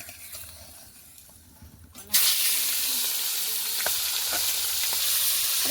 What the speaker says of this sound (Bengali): এদিকে কড়াইতে তেল দিয়ে দিয়েছি কড়াই গরম হয়ে গেছে এবার মাছ দেব